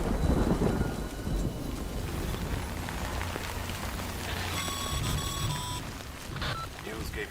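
Rain and rumbling thunder in the Death Stranding video game, a dense steady downpour hiss with low rolling rumble, plus a brief tonal game sound partway through.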